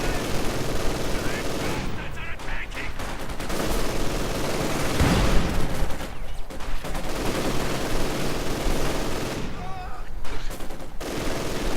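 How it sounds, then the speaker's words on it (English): Dense machine gun fire and other gunfire in the real-time strategy game Company of Heroes 2, a steady stream of rapid bursts running throughout, with a voice talking over it. "the machine gun right here continues to keep the central victory point under watch"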